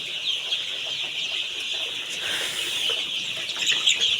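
Young farm chickens, a flock of 16-day-old birds recovering from illness, clucking and chirping continuously at moderate volume with some wing flapping, a dense steady bird chorus with no talking.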